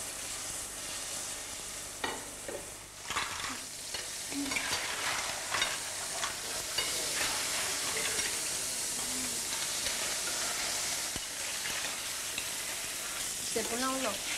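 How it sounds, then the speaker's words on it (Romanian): Shellfish sizzle and crackle steadily as they fry in a pan in a home kitchen, with a constant hiss of hot oil and occasional stirring clatter, loud and close throughout with no talk. "Acum putem prăji scoicile."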